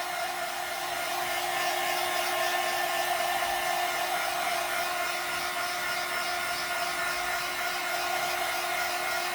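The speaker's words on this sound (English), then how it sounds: "you got to keep that dryer moving or you're going to melt that wax" A steady, loud hair dryer whirring without pause as it heats wax, a constant airy blow with a faint tonal hum running underneath.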